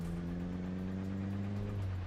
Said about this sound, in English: really like the sound of my engine though.